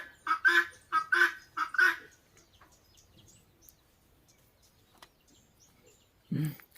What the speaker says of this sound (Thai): นี่คือไก่ต๊อก